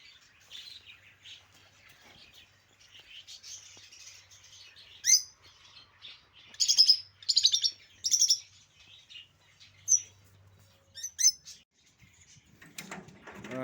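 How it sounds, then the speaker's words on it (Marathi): African parrots calling at a school, sharp high chirps and squawks arriving in irregular bursts, some loud and close, over a faint low background hum. "या बाजूला काही आफ्रिकन पोपट इथं दिसत आहेत"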